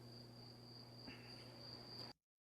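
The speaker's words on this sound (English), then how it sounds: "So the crickets don't seem to be worried about the fighting too much." Crickets chirping at night in northern Israel, a faint steady high-pitched trill over low hum that cuts off abruptly near the end.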